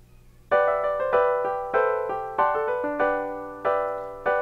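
Finale 2014 notation software plays back a score with chord playback on, sounding bright synthetic piano-like chords and notes struck in a steady rhythm, each attack decaying quickly, clear and close with no speech.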